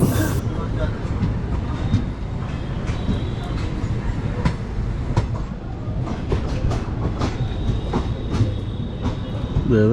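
Amritha Express train running on rails toward Madurai, a steady rumble with rhythmic clickety-clack of the wheels and a few faint squeals, heard from inside the carriage with voices in the background.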